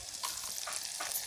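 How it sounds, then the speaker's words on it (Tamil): Chopped onions with garlic fry in a pan for fish kulambu, giving a brief, quiet sizzle broken by a few soft scrapes as they are stirred. "கட் பண்ணி வச்சுருக்க 2 வெங்காயத்தையும் அதில் போட்டுருங்க."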